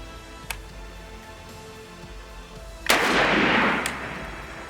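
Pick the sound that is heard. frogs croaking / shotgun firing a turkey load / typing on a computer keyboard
shotgun firing a turkey load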